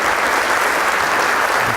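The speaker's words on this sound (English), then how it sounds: "I'd like to give a very special round of applause to our guests from Dell, Janine Hanowitz and Mike Owens." A conference audience applauds steadily for guests from Dell, dense continuous clapping from a sizable crowd with no pauses, fairly loud and close.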